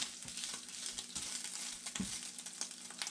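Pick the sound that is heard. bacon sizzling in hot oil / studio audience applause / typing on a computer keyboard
bacon sizzling in hot oil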